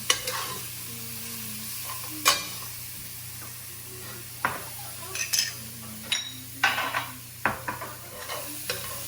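Finely chopped onions and garlic frying in a pan for shrimp and bacon alfredo: a steady close sizzle with stirring, punctuated by sharp clinks and scrapes of a utensil against the pan, no talking.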